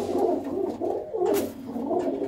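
Domestic racing pigeons coo in soft, throaty, repeated rolling calls that overlap in a close, continuous murmur, with no talk.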